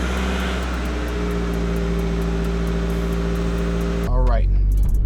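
Nissan S13 on a test drive after a short-shifter install, with a steady engine drone and road hum from inside the car, then a louder shift in engine tone near the end.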